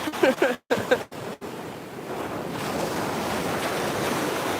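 Ocean waves roll and crash in a steady, broad roar along a shore under a rainbow, rising after a few seconds of a person talking at the start.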